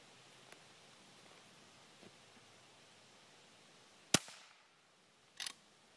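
A Henry lever-action .22 rifle fires a CB long round, giving one sharp, fairly quiet crack with a short tail, followed by a fainter mechanical clack, over near-silent background.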